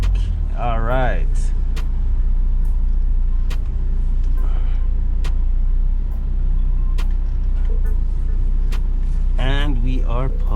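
A car idles with a steady low engine rumble from inside while it backs into a parking spot, with soft clicks throughout and a voice speaking briefly at the start and end.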